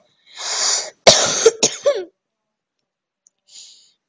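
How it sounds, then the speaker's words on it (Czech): Coughing from one person, a short harsh burst followed by a few rapid coughs, close and fairly loud, then silence and a faint trailing breath. "Trochu ještě někdy kašlu."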